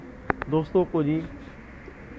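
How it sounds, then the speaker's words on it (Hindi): Pigeons on a rooftop during a pigeon-flying session, a couple of short sharp flutters followed by three soft low coos, close and clear, with a voice speaking briefly at the start. "कबूतर उड़ चुके हैं, कबूतर अपनी परवाज़ भर चुके हैं"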